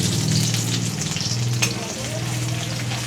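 Chopped ginger and garlic frying in a pan of hot oil, a loud close sizzle running the whole time, with a soft stir and a brief sharper crackle midway, no talking.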